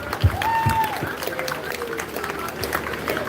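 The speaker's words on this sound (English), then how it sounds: "Give Roger a round of applause." A crowd at a police brutality protest rally breaks into applause and cheering, a dense patter of clapping with a whistle-like tone rising above it; a voice speaks loudly over the start.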